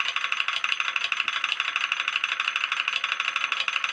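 A hemi toroid pulse motor on a two-transistor driver circuit rattles with loose flywheel magnets, making a fast, steady, buzzing clatter that is loud and close.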